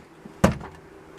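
A single sharp clunk as a stiff garage storage drawer is yanked open, a brief loud knock followed by a short rattle of small hardware inside, then quiet.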